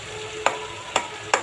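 Cumin powder and whole spices frying in a pan for a chickpea curry, with three sharp stirring scrapes spaced about half a second apart over a low, steady sizzle.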